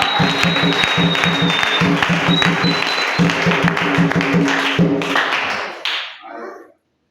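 A church congregation applauding, loud dense clapping in a steady rhythmic beat that carries on for several seconds before thinning out and fading away.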